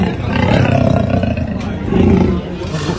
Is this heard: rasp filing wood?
no